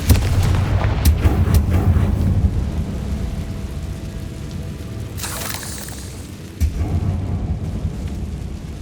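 A Confringo explosive spell in the Hogwarts Legacy video game: rumbling booms and blasts over a dense, noisy background, with one sharp crack near the middle and another thump shortly after.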